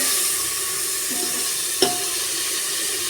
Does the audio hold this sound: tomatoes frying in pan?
yes